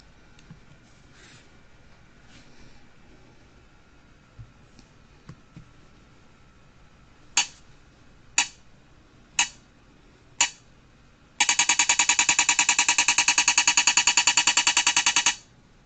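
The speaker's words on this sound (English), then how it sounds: "you heard first the locator tone and then the walk indication." Accessible pedestrian signal at a crosswalk push button: four spaced, slow locator tone clicks, then a rapid, bright ticking walk indication that runs steadily for several seconds, moderately loud with no talk.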